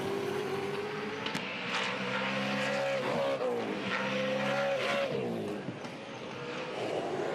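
V8 Supercars racing on track, engines droning loudly with rising and falling pitch through gear changes, a dense close roar sustained throughout.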